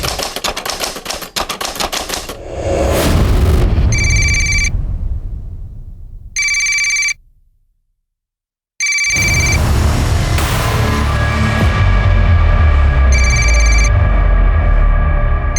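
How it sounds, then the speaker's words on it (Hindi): A mobile phone ringtone repeats in loud bursts with short gaps between them, set against dense clattering and a steady background bed, with one stretch of silence partway through. "कब से फोन बज रहा है"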